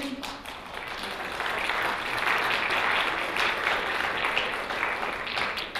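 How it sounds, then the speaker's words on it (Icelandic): Meeting attendees clapping to approve a resolution at an annual general meeting, a steady burst of crowded applause from a room of people lasting several seconds before tapering off, with no speech. "hún samþykkt með lófataki"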